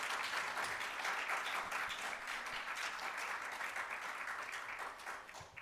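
Audience applause at a health equity conference, a steady round of clapping from a seated crowd, moderately distant and continuous across the whole stretch, tapering slightly near the end.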